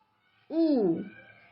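A single owl hoot rising and falling in a clear, tonal call, close and fairly loud after a moment of near silence.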